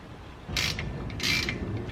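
A torque wrench tightens suspension bolts on a BMW E34 during a coilover and control arm refresh, giving two short, close ratcheting clicks with a brief pause between them.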